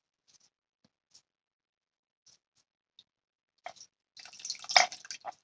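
An ounce of Ningxia juice poured into a glass: a few faint isolated drips at first, then a short burst of trickling liquid near the end, close and fairly quiet.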